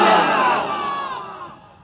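A crowd gives a loud, roaring shout of takbir at a religious gathering, a dense mass of voices swelling at once and then slowly fading over a couple of seconds.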